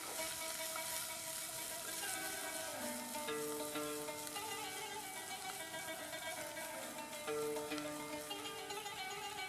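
Parsley stirred into a hot pan, a soft continuous sizzle with gentle scraping while faint music plays throughout in the background.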